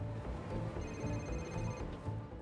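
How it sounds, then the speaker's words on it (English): Phone ringtone trilling through a game controller speaker while playing Spider-Man 2, repeating electronic bell tones held steadily over a dense background of game music. "I hear my controller ringing."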